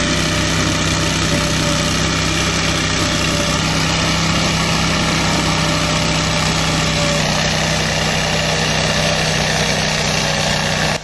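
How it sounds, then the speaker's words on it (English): A Big Pig snow blower with a Honda engine runs at a steady drone, loud and close for the whole stretch, with a constant low hum and no voices. "The Big Pig blower uses a Honda engine to throw that slush aside."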